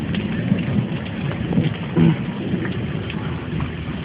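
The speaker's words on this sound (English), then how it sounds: "It's just a little drizzle now." Light drizzle falls during stormy weather with a steady, soft hiss, broken by a few faint taps and patters and a brief thump.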